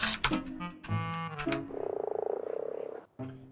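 Beelzebufo frog in the game ARK croaking: a deep rapid pulsing croak rattles steadily for over a second, preceded by sharp impact and growl sounds, loud and close without speech.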